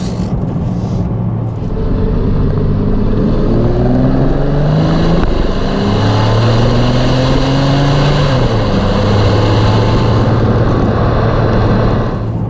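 A Porsche 911 Turbo 997 cabriolet with a twin-turbo engine accelerates hard in second gear. The loud, steady engine note climbs in pitch across the run, with heavy wind and road roar all around.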